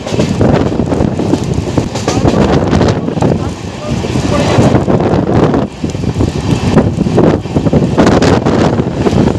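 An LHB-coach Kanchanjunga Express train runs fast near Dankuni Junction, giving a loud, steady rumble heavy with wind buffeting, with a few brief dips in level.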